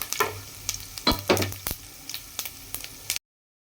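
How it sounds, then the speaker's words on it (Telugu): Tempering spices for semiya pulihora frying in oil over a low flame, a close crackling sizzle with several sharp stirring scrapes before the sound cuts off abruptly. "ఫ్లేమ్ని లో ఫ్లేమ్లో పెట్టుకొని మాడకుండా దూరగా వేయించుకోండి"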